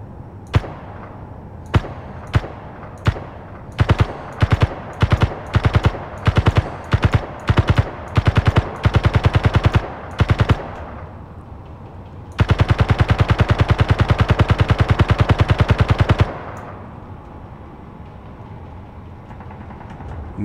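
Gun turret firing in the Space Engineers video game: bursts of sharp, loud gunshots, first spaced single shots quickening into rapid volleys, then a long unbroken stream of rapid automatic fire before it stops.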